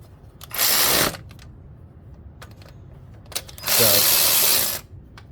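Two bursts of a failing impact gun snugging down head gasket bolts on a 2005 Honda Pilot, each loud and about half a second to a second long, with quieter clicks and shop noise between.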